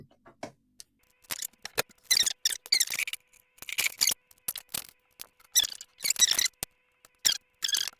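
A thin wire, meant for a heated cheese cutter, being snipped: a series of sharp, close clicks and squeaky crunches in irregular bursts, with brief pauses between cuts and no talking.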